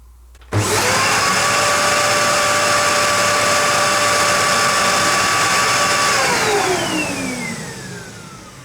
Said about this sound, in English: Well, that's not too noisy for a Dyson